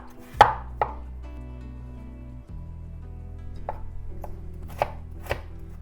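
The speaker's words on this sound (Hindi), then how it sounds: "आलू को पहले हम ऐसे काट लेंगे" A knife chops potatoes on a cutting board in a home kitchen, making a handful of sharp, close, isolated knocks spaced irregularly over a quiet background hum.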